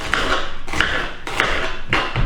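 A knife chops butternut squash on a cutting board, four evenly spaced, sharp knocks close by.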